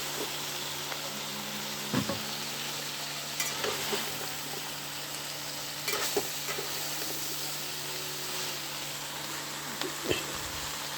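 Lau shak greens and long-cut potato strips hitting spiced oil in a pan, a steady close frying hiss with scattered crackles and occasional utensil clinks, no voices.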